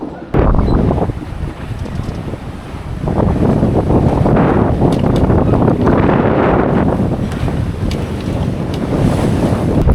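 Wind and waves aboard a sailboat at sea: loud, constant wind buffeting the microphone over surging wash and splashing water, rising after a few seconds and continuing throughout, with no talking.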